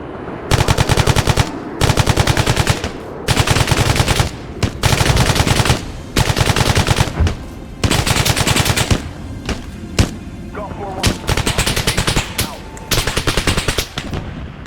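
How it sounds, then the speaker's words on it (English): Bursts of machine-gun fire in an Arma 3 battlefield, with long sustained volleys broken by short pauses, loud and close throughout and with no talking. "The opening firefight, again, another fantastic set piece and just powerhouse of an opening."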